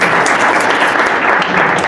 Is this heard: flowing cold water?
no